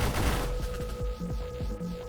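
An incendiary strike weapon fires in the space shooter Nova Drift as a rapid run of short percussive bursts over a steady electronic hum, fairly quiet and without talk.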